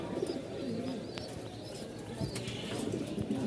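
Soft, low pigeon cooing repeats through a steady murmur of background noise at a pigeon market, with a few faint chirps above.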